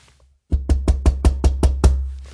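Knuckles rapping the front of a cajon: after a short quiet moment, eight loud, punchy knocks in a quick steady rhythm, close up with a deep woody body.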